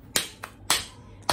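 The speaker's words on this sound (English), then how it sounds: "Please clap your hands." Children clap their hands in an English class game, giving three sharp separate claps spaced through a short quiet moment.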